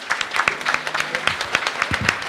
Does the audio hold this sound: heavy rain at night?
no